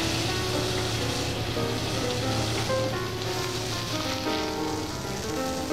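Black bass fillets sizzle skin side down in a pan with fresh thyme and butter, a steady, close, continuous frying hiss that stays loud and even throughout.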